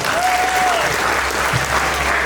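Children applauding at a community political education event, loud dense clapping sustained throughout, close and lively with a faint crowd murmur behind.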